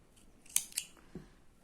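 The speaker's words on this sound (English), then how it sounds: "So I'm going to chain 1 and then cut my yarn." Scissors snip through crochet yarn in two quick, close cuts followed by a softer click, alone in a quiet room.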